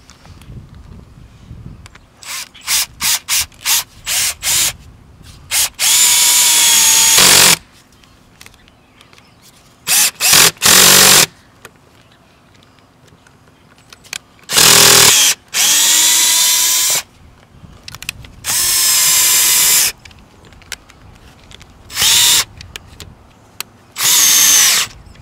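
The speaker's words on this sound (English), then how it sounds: "I need to drill a little bit deeper." A power drill driving into a roof for solar panel mounting, heard in repeated bursts of high whine, some short and stuttering, others held for a second or two, loud and close with quiet gaps between.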